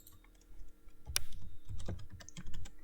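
PHP code is typed on a computer keyboard in close, quick, uneven bursts of clicks with a couple of heavier key strikes and no talking.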